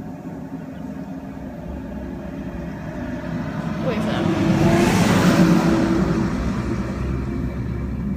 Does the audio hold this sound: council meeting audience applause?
no